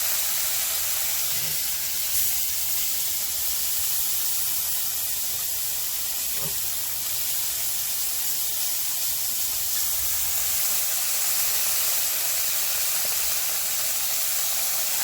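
Small fish coated with turmeric and salt frying in hot oil, a dense, loud, continuous hiss and spatter that holds steady for the whole stretch, close and without any talking.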